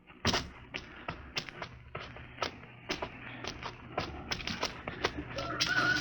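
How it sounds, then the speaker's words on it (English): Rooster sound effect from a radio drama set on a misty Mars landscape: repeated sharp clucks and crowing calls, loud and close, coming in quick irregular bursts with no speech over them. "I could swear that sounded like a rooster."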